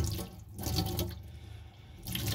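Hot water at about 70 degrees runs from a tap into a stainless steel sink in a 2004 Swift ACE Award caravan, a close, continuous splashing stream with a brief dip midway.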